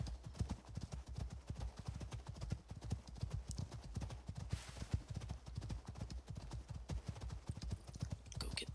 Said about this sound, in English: No, horse, settle down.